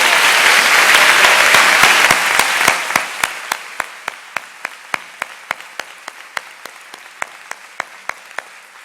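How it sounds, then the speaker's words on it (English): An audience at a high school honors ceremony applauds scholarship students: loud, full clapping thins out within a few seconds into a few scattered, distinct claps that continue to the end. "Will you please join me in giving these students a well-deserved round of applause?"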